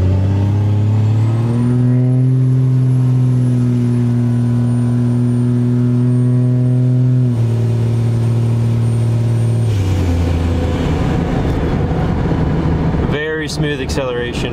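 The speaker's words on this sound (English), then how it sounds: "Like I said, the turbo setup on this thing is amazing. It spools so nicely." A Cummins 5.9 diesel truck with a turbo setup pulling hard under acceleration, its loud engine drone steady with a rising high turbo whine, then a shift in pitch and rougher roar near the end, heard from inside the cab.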